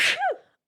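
A single short sneeze, close and sharp, a breathy burst followed by a falling voiced tail, with no talk over it.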